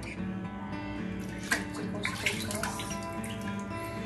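Ingredients are rinsed under running water from a tap while chicken morog polao is being cooked at home, with a steady close splash, a few louder splashes and clunks and faint background tones.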